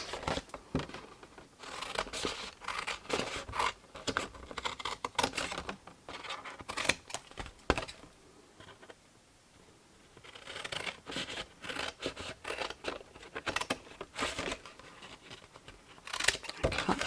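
Scissors snip through card while making a no-glue box, a run of crisp, close cuts in quick bursts with a short pause midway before the snipping resumes, no voices.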